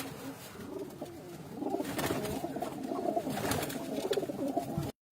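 Pigeons coo in a pen of birds kept for sale, soft repeated throaty calls overlapping close by, with rustling and faint background noise before a sudden cutoff at the end.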